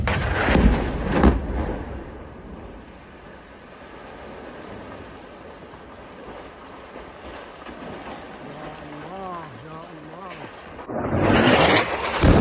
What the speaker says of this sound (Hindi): ये देखिए एक के बाद एक हमले, लेबनान से निकली हुई ये तस्वीर है